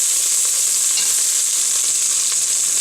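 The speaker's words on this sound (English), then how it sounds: "Now it's time to deglaze the pan just a little bit." Browned beef sizzles steadily in a hot pan as it is deglazed, a bright continuous frying hiss with faint stirring scrapes throughout.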